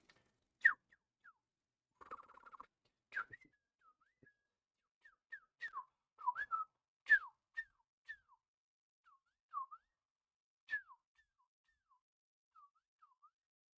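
A person whistling in imitation of birdsong: short, scattered chirps and warbled phrases with gaps between them, alone against a quiet indoor background and fairly faint.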